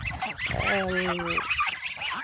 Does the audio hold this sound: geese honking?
yes